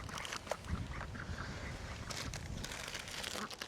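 Ducks quacking off and on over a busy, noisy outdoor background, with scattered calls of varying loudness and no speech.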